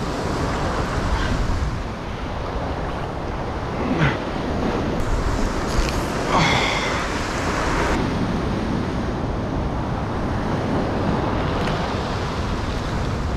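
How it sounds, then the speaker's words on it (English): Rough, angry ocean surf pounding the shore near a cave campsite during a solo fishing trip, a continuous loud wash of crashing waves with wind buffeting the microphone throughout. "There's one hell of an angry ocean out there."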